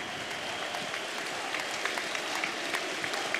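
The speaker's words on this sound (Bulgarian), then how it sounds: "Аплодисменти за Стоичков за пореден път." A hall audience at an event marking footballer Hristo Stoichkov's 50th birthday applauds him, a soft, even patter of many hands heard from a distance. It stays steady for a few seconds.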